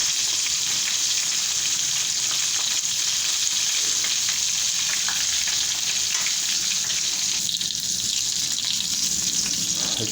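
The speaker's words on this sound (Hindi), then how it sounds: "पहले जो है इसकी स्किन वाला हिस्सा जो है वो फ्राई करेंगे" Eggplant, skin side down, fries in a pan with a steady, close hiss of sizzling oil that holds evenly throughout, with no speech.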